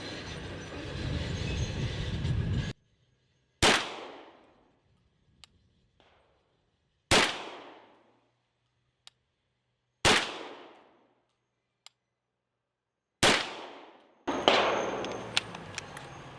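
Four loud shotgun blasts from a CZ 712 fired offhand at a target, spaced about three seconds apart, each with a short decaying echo and silence between them.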